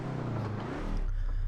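An engine hums steadily from a car in Assetto Corsa, a Civic or Corvette DP, moderately loud and sustained, briefly shifting pitch before settling into a low drone.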